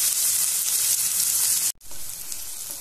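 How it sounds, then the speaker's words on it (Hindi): Finely chopped onion fries in hot oil, a steady bright sizzle close by that drops out for a brief moment near the end before resuming, with no talking. "प्याज को हमें बारीक काटना है और तेल में हमें भूनना है"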